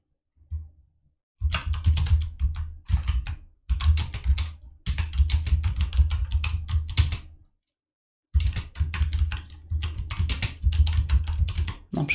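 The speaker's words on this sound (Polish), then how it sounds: "Następnie wprowadzam tytuł tego zadania." Computer keyboard keys clatter in steady bursts of typing, broken by brief pauses, as a task title is entered. The taps are close and clear, and no voice is heard over them.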